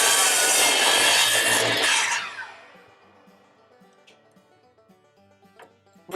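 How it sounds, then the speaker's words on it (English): A miter saw tilted to a 30 degree angle cuts through wood held in a jig for a farmhouse table, with a loud, steady whine for about two seconds that fades as the blade spins down, followed by faint clicks. "you can move the angle of your saw out to 30 degrees"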